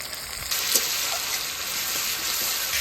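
Chopped tomato hits onions already frying in a hot pan, setting off a loud, steady broadband sizzle that starts abruptly after a brief quieter moment and continues unbroken, close up and with no talking.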